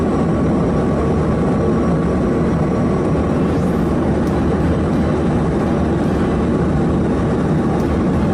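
A military aircraft in flight during an intercept over the Indo-Pacific, a loud, steady engine roar that fills the whole stretch without a break.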